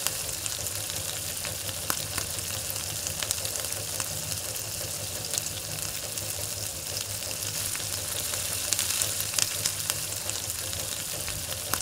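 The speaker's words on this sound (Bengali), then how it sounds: "পেঁয়াজটাকে ভালোভাবে নাড়াচাড়া করে ভেজে নিতে হবে আমাকে" Small onions fry lightly in oil while being stirred, a steady dense sizzle running the whole time with scattered soft scrapes and taps of the utensil against the pan, no voices.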